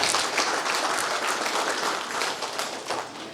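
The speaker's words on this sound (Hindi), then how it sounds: "इसलिए आइए हम सबों के लिए जोरदार तालियों द्वारा" Steady audience applause at a Catholic church blessing ceremony in a parish, sustained and fairly even for a few seconds.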